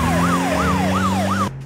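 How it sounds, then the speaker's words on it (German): A cartoon ambulance siren wails in a steady repeating rise-and-fall pattern, loud and close, over a constant engine hum before cutting off abruptly. "Der Rettungswagen."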